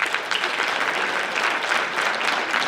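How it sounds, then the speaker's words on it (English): At a high school basketball awards event, an audience applauds the Vikings with steady, loud, dense clapping that fills the room evenly from start to finish, with no voices over it. "Clap it up for the Vikings."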